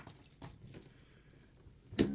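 A set of keys jangles in a few quick metallic bursts, close to the listener, with a sharper louder rattle near the end and quiet between.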